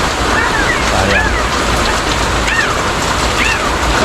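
Steady, loud rain hisses continuously with faint chirps and no talking.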